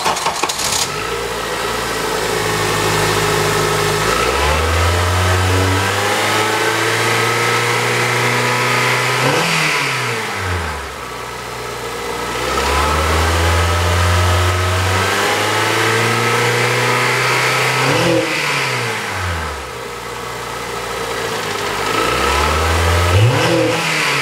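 A 2004 Honda Accord engine running near the microphone, idling steadily and then revving up in repeated swells before settling back, with no talking.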